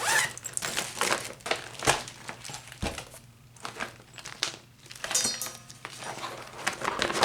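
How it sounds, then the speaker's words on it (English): Painting supplies being packed into a bag make close, busy crinkling and rustling with scattered soft knocks and thumps, in quick irregular bursts. "then you just put all of this stuff in your bag like so."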